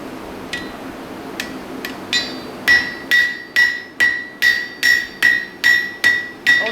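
Hammer striking metal, blows starting sparse and then settling into a steady ringing rhythm of about ten sharp, close, loud metallic hits.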